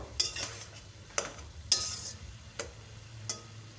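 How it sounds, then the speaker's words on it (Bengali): Fish and vegetable chorchori with potato and aubergine gets stirred in a pan: a soft, quiet simmer punctuated by five or so sharp scrapes and clinks of a utensil, with no talking. "এবার আমি এটাকে ভালো করে নাড়িয়ে চাড়িয়ে নেব"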